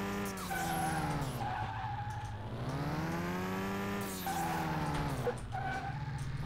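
A car in the video game Car Mechanic Simulator drives and skids, its engine whining through rising and falling revs while tires squeal continuously throughout.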